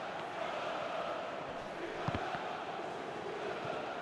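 A large stadium crowd at a Benfica Champions League match gives a steady, broad wash of applause and murmur, sustained and fairly distant throughout, with a brief sharper thump partway through.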